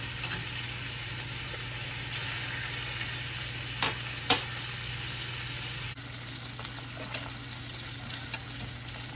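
Steak frying in a pan with garlic butter gives a steady, moderate sizzle with a constant low hum beneath it, broken by a couple of brief clicks and a slight drop in level partway through.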